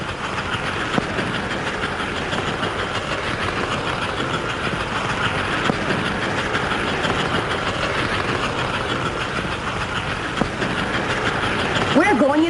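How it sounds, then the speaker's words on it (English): American Flyer model train locomotive running on a layout track and climbing a grade, a steady rolling rumble with a continuous mechanical whir, fairly loud and unbroken for the whole stretch, with no voices over it. "Watch that locomotive work. Wow, look at that engine climbing."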